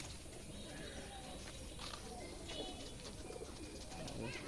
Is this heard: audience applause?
no